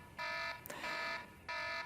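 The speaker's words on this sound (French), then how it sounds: "c'est quoi cette alarme?" A reminder alarm beeps in loud, steady electronic bursts, three long tones in a regular pattern, with a brief click between the first two.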